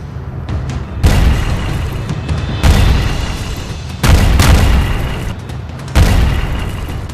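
Four heavy booms from an American-made M777 howitzer firing artillery rounds, each a loud sudden blast followed by a long rumbling decay, spaced about one to two seconds apart with no speech.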